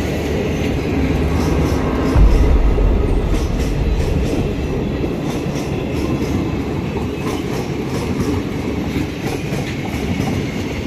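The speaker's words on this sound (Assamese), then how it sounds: "ৰাতি ট্ৰেইন আহিছে আৰু ট্ৰেইনখন ইয়াত নৰখে" An intercity passenger train rolls through a dimly lit station at night without stopping, a loud steady rumble of wheels and carriages with rhythmic clatter filling the whole stretch, close by.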